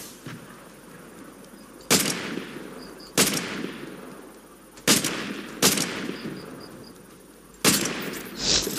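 Five sharp, loud gunshots ring out in a video game, spaced a second or two apart, each with a short decaying tail over a quiet background.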